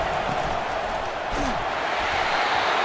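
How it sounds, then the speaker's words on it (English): Stadium crowd at a college football game between Clemson and Georgia, a broad continuous roar of many voices filling the air with faint scattered shouts, steady and fairly distant. "Listen to the crowd energy here in the early going."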